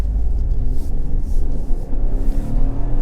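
Nissan Juke 1.0 DIG-T turbocharged small SUV on the road, a steady low engine rumble and road drone heard from inside the cabin, fairly loud and without talk.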